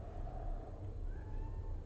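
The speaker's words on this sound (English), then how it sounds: "That's Fitz out there. Yes, I know my cats by their meows." A pet cat named Fitz meows faintly from somewhere outside the room, a quiet drawn-out cry over low background hum.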